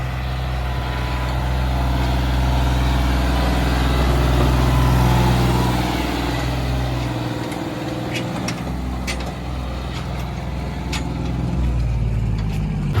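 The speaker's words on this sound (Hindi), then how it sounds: "देखा भाई आपने, चढ़ गया ट्रैक्टर फिलहाल यहाँ पे।" A heavy Eicher tractor engine labors loudly and steadily nearby, pulling about 200 loaded sacks up a slope on a farm, its deep drone rising and straining, with brief clattering over the rumble.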